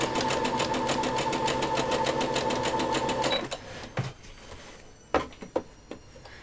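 A sewing machine runs at about half speed with a fast, steady mechanical stitching rattle for several seconds, then stops, followed by a few scattered clicks and handling knocks.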